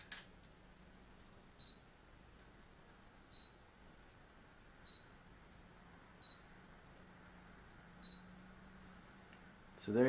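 A Pentax K-5 IIs autofocuses in low light, giving about six faint, evenly spaced short chirps of the focus motor over a quiet background.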